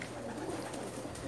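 Pigeons coo softly nearby, low burbling calls overlapping in a brief, steady murmur with light background noise.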